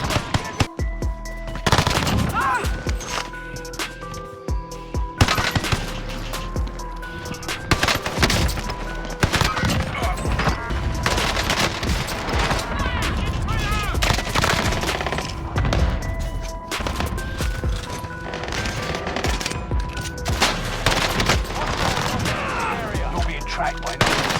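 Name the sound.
gunfire from a video game, Call of Duty Warzone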